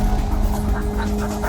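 A dog pants steadily at close range, quick rhythmic breaths over a constant low hum, with no talking.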